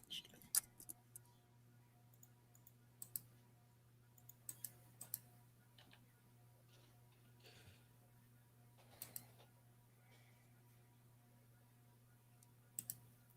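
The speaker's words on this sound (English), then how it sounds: "You're typing again." Scattered keyboard clicks and short bursts of typing, faint and irregular, over a steady low hum in a quiet room.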